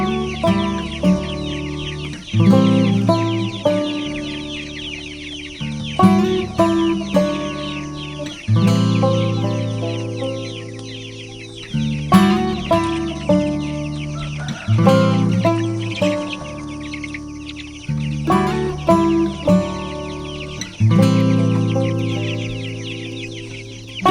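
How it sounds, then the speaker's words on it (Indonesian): Chickens clucking busily while being fed, a dense, continuous chorus of overlapping clucks and calls close by, going on steadily with no one speaking. "saya mau kasih makan ayam dulu"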